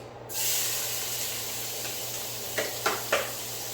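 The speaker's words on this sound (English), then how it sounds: "Get that sizzle" Onions hit a hot pan with a sudden loud hiss, then a steady sizzle continues, broken near the end by a few short crackling pops.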